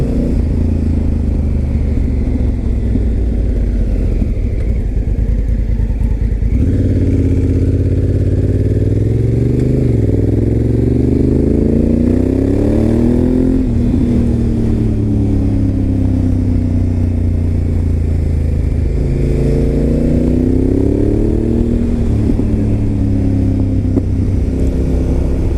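A Honda Africa Twin motorcycle engine under way on a ride, a loud, steady drone with rising and falling pitch as the rider shifts and accelerates through the gears, wind rumble throughout and no talking.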